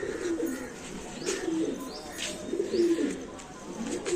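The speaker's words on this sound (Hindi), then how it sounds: "ये हैं पूरे ब्रीडर कबूतर," Breeder pigeons of the Shahjahanpuri breed coo softly and repeatedly nearby, low throaty calls rising and falling over faint background noise.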